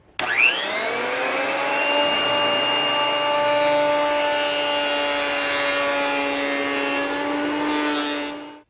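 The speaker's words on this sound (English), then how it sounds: "Now with the freshly jointed face down on the bed of my surface planer, I'll run it through until I get to the thickness I want." A surface planer feeds a freshly jointed wooden board through, its motor spinning up with a rising whine and then holding a loud, sustained cutting drone before winding down.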